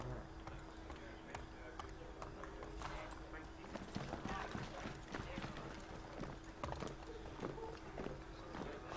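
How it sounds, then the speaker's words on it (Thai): Horse hooves clip-clop in a steady rhythmic gait amid Assassin's Creed 3 game ambience, quiet and continuous, with someone talking over it. "เดี๋ยวเราจะขี่ม้ายิงปืนกันนะครับ"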